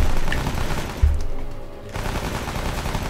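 Gunfire in Rambo: The Video Game comes as dense, loud automatic bursts, with a heavy thump near the middle, a brief lull, then continued rattling fire.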